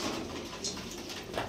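Fancy crested pigeons at a breeder's sale cooing in a short burst, soft throaty calls close by over a constant hissy background, with no talking.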